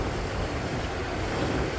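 Stormy wind and waves off Laem Phromthep, Phuket, in the Andaman Sea, heard from a fishing boat: a steady, loud wash of surf and wind buffeting the microphone with no pauses.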